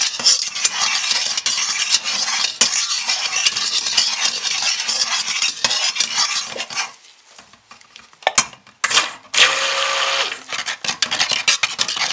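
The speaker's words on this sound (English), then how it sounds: "Let's mix this up. Get a nice thin trace, very thin." Soap batter is mixed to a thin trace for Taiwan swirl soap, a loud, steady close-up churning and swishing that runs almost continuously, breaking briefly near the end before resuming.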